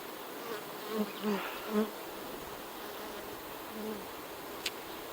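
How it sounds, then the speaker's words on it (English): Honey bees buzz steadily at close range around an open hive during a honey harvest, with a few louder buzzes as individual bees pass near the microphone. "The longer that stays open, the more bees fly in there."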